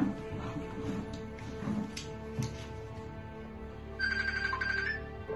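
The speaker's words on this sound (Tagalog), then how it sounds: "Oh, may tumatawag sa telepono mo." A phone ringtone chimes over a busy background of music and noise, the bright electronic melody clearly audible for the last second or so.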